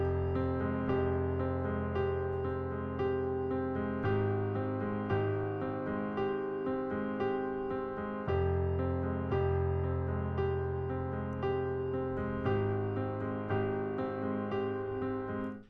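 Piano plays a verse variation of a song from the James Bond film Spectre, with repeated left-hand notes under a steady chordal pattern, soft and continuous for about sixteen seconds with no talking.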